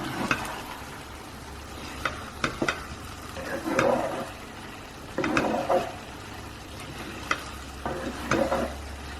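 Chicken pulao rice cooking in a single pot, with intermittent stirring scrapes and a soft steady simmer, several clattering spoon strokes against the pot at close range, no talking.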